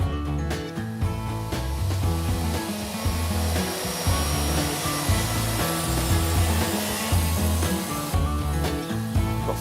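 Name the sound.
power saw cutting 35 by 40 mm wood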